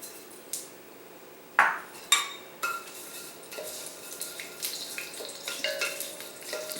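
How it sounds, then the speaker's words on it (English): Mustard seeds hit hot coconut oil in a pan with a few sharp clinks of metal, then settle into a faint, steady sizzle dotted with small popping crackles. "So I'm going to add in some mustard seeds."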